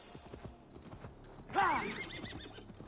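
Close hooves clop in Assassin's Creed Valhalla, then a horse lets out a loud, bright whinny partway through while the hoofbeats carry on quietly beneath.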